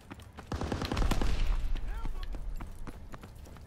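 Shotgun blasts fire inside a house in a melee-only online shooter game, several sharp, loud reports clustered together amid game noise, with voices talking over the shots.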